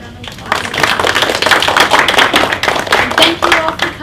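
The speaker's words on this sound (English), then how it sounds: "So if we could just give that round of applause." A small audience gives a round of applause after a talk, close, uneven clapping that swells quickly and holds for a few seconds.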